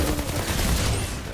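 Gunfire in the video game Outriders on PS5, a dense burst of rapid overlapping shots with a heavy low rumble, loud and continuous, with no voices.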